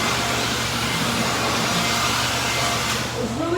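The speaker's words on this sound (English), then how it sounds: "I also had to pick up my Ryobi 18-volt blower" Ryobi 18-volt cordless leaf blower, model P2105, running steadily at close range with a loud, continuous broadband whoosh that barely changes across the few seconds, with a short dip near the end.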